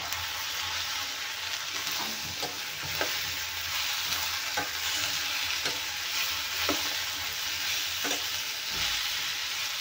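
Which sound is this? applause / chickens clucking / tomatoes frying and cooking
tomatoes frying and cooking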